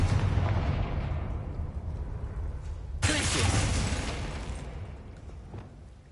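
Confringo blasting spell detonating in a video game: a loud, sudden explosive burst with a rumbling, decaying tail over a constant low background roar.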